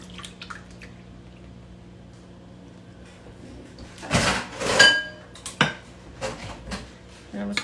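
Cranberry salad mixture poured into a lidded dish in a home kitchen, with wet plops, drips and clinks against the dish coming in irregular bursts after a quiet start.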